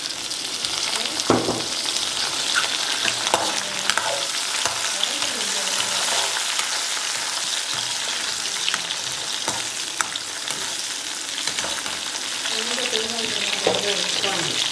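Tomatoes go into a pan of frying onions and cashews for a potato and pea masala, raising a steady crackling sizzle with stirring scrapes, close up and continuous.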